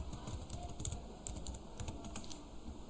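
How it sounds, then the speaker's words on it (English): Typing on a computer keyboard, a quiet quick run of key clicks in an uneven rhythm, close and faint, with no voices. "Before that, type the text Max Blog."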